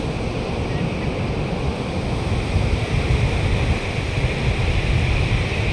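Sea waves at Digha beach wash and break in a continuous roar of surf as the tide comes in, mixed with gusty wind noise close by, swelling slightly louder toward the end.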